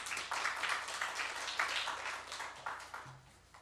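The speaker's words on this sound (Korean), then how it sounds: "하나님께 영광의 박수 돌리겠습니다" A church congregation claps in a sustained, moderately loud round of applause that slowly tapers off toward the end.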